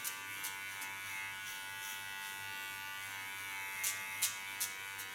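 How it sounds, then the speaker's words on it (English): An electric hair clipper buzzes steadily through a haircut, a constant bright hum close up with a few brief sharper clicks and scrapes as it passes through the hair, with no talking. "Leaving on the side of the clipper."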